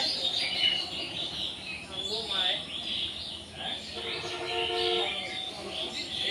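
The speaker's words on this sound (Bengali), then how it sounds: "পাখির কিচিরমিচির আওয়াজ।" Birds chirp faintly in a large banyan tree beside a village temple on a rainy afternoon, light twittering calls scattered over a soft ambient hum with murmured background voices.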